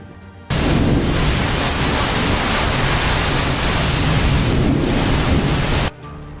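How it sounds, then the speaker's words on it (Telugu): Heavy rain in Guntur district during a thunderstorm: a loud, dense, steady roar of downpour cuts in abruptly, holds evenly for several seconds, then stops just as suddenly. "గుంటూరు జిల్లా వ్యాప్తంగా నిన్న రాత్రి నుంచి భారీ వర్షం కురుస్తుంది"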